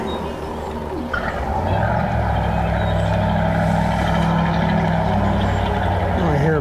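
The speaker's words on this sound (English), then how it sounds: "Oh, I hear a big boat running." A large boat engine runs nearby at a lake boat launch, a loud steady low drone that holds for the whole stretch with no break.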